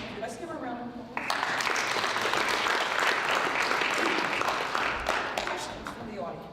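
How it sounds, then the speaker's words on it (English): Sustained audience applause at a 1 Million Cups business pitch event at Delaware Tech, breaking out after a brief moment of talk and filling the room steadily for several seconds before tapering. "Let's give her a round of applause."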